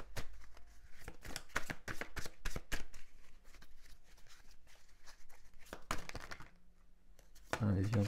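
Tarot cards are shuffled by hand in quick, papery riffles and flicks that repeat close up throughout, while a voice speaks softly in between.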